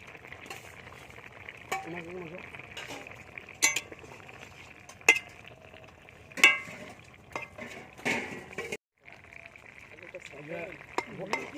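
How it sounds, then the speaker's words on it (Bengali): Fish frying in a pan of spiced curry with turmeric and fried lentil dumplings, a low sizzle broken by sharp metal clinks and scrapes of a spatula, a brief pause, then more stirring noise. "এবার মাছটা দিয়ে দেবো"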